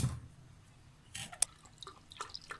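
Milk poured over about three heaped spoonfuls of sugar in a pot while making a Balkan trileçe milk syrup, heard as soft, close liquid splashes and drips that come in small bursts.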